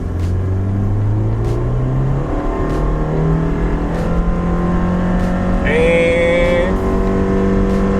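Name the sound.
Subaru Impreza CVT car accelerating at full throttle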